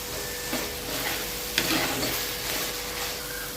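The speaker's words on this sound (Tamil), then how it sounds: "நல்லா இஞ்சி பூண்டு வாசனை போகிற வரைக்கும் நல்லா வதக்கணும்" Ginger garlic paste sautéing in a pan for crab gravy, a soft steady sizzle with light scraping and stirring clicks, quiet and close, no talking.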